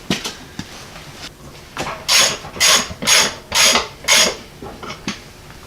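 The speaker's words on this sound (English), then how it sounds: "for now, you're stuck watching me ratchet" A hand ratchet wrench works on the rear end of a Model A shop truck, clicking in a burst of about six strong, evenly spaced ratcheting strokes with lighter clicks around them, close up and alone.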